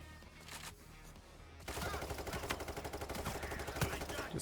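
Gunfire in the video game Payday 3 starts abruptly as a dense, rapid automatic burst, loud and continuous over a busy game background.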